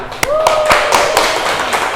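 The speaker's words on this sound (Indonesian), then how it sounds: "Tepuk tangan untuk kita semua." A class claps at the end of an Islamic education lesson, a few distinct hand claps followed by scattered clapping, with a voice speaking over it.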